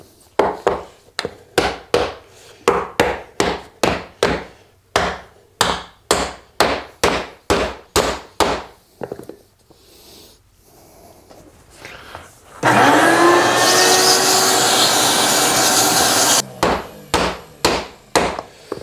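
A mallet strikes a wooden foot block on a workbench in a long series of sharp, close knocks at a steady pace, pausing briefly, then a loud whooshing machine burst for a few seconds before more rapid knocks resume.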